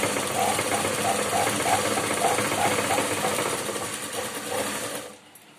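A sewing machine stitches a blouse lining in one steady, continuous run with a fast even rhythm, running close and loud for about five seconds before it stops abruptly.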